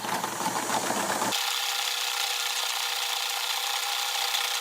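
Sewing machine stitching a mitt, a steady continuous whir running the whole time, loud and close, with a denser rougher burst at the start before settling into an even hum.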